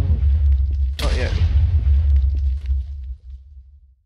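A nuclear cannon from a Minecraft mod fires in a single heavy blast. A sharp crack is followed by a long low rumble that slowly fades over a few seconds, with no talk over it.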